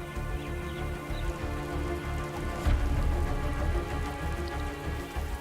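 Monsoon rain falls steadily on the Sri Lankan lowlands, a dense, even hiss of drops hitting surfaces that stays loud and constant throughout, with no voices.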